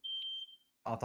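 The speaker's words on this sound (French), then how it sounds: "C'est mon alarme de feu" A home fire alarm gives a single shrill, high-pitched beep close by, lasting under half a second, and a voice starts speaking just after it.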